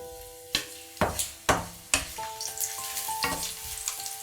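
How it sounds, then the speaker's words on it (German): Spring onions sizzle in hot oil in a pan with sharp crackles and hisses, several bursts as pieces are added and stirred, close and fairly loud. "Wieder ein Schuss Öl in die heiße Pfanne. Lauchzwiebel anbraten."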